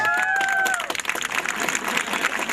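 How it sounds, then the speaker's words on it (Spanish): Live show audience in Coronel Oviedo applauding a performer, dense steady clapping that stays loud throughout, with a sustained whistle-like tone sliding across it early on. "Fuerte ese aplauso, más fuerte la mitad."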